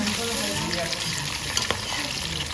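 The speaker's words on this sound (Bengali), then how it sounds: "মাছ ভাজছে" Fish frying in a pan during a small family birthday gathering at home gives a steady, close sizzle with faint voices in the background.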